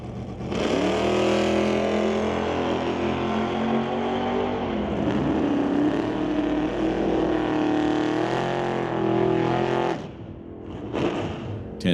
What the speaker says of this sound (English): Test hit for the Camaro, 996. First hit of the day, 136 miles an hour for the black Camaro.